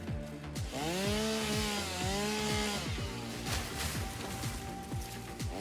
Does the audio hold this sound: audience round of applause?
no